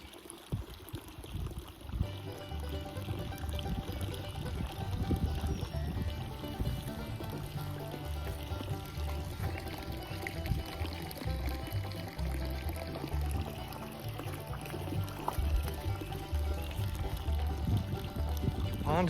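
Water pours steadily from a 3-inch overflow pipe into a deep garden pond, a continuous splashing stream heard close and fairly quiet, with no speech over it.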